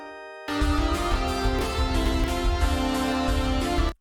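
Chords on a BeepBox organ preset enter after a brief pause and sustain as a thick, steady chordal pad with a pulsing rhythmic texture underneath, loud and unaccompanied for about three and a half seconds before cutting off.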